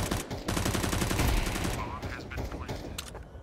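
Rapid bursts of Counter-Strike gunfire crackle densely through the first half, then thin out into scattered shots, with a voice talking over the game action.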